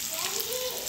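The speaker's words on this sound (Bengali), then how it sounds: "ঢাকা দিয়ে ভাজবো" Steady, close sizzling of dried fish frying in oil in a covered pan, village-style cooking, a continuous hissing crackle throughout the brief moment.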